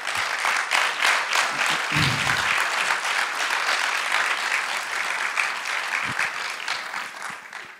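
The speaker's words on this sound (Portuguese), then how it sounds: "Uma salva de palmas para ele." A congress audience breaks into sustained applause for a speaker, dense steady clapping filling the hall at an even level for several seconds before easing slightly at the end.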